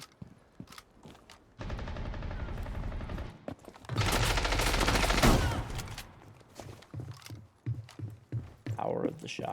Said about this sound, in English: Power of the shotgun.